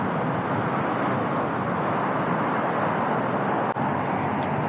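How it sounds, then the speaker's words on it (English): Dense highway traffic at a major junction near Stockholm forms a steady broadband roar, with a faint passing hiss and no distinct voices. "So it's always a lot of traffic here, even in the morning"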